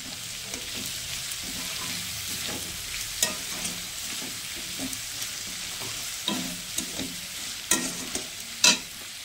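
Onions with salt frying in a pan over raised heat before spice paste goes in, a continuous loud sizzle broken by repeated close spatula scrapes and stirs, the sharpest clatters near the end.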